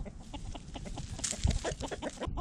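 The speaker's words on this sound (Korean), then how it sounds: "난생 처음 보는 닭 무리를 보고 로라는 지금 완전히 쫄았다" A flock of chickens clucking close by, with overlapping short clucks and a steady busy cackle throughout, rising to a louder burst midway.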